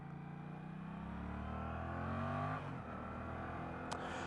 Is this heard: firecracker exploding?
no